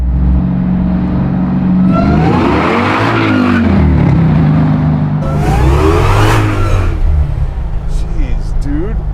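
A Hellcat V8 crate engine in a Chevy C10 pickup revs hard in two loud rising and falling bursts, with a deep low rumble between them and a voice talking over it.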